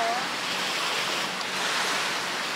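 Ocean surf washing onto a bright beach in Lagos, a steady broadband roar with wind noise across the microphone, continuous and fairly even throughout.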